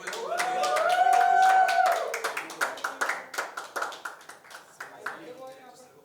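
A voice calls out briefly, then a run of steady, rhythmic hand claps follows at close range, quickening slightly as it goes on.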